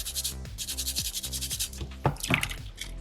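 Scuffing and rubbing on a soapstone fox carving, a steady close abrasive scrape in short repeated strokes, with brighter rasping bursts near the end and no talk.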